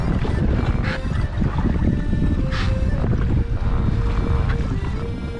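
Sea waves slap and wash against a fishing kayak out on open water, a continuous loud churn mixed with heavy wind buffeting the microphone.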